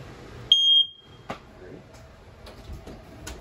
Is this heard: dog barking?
no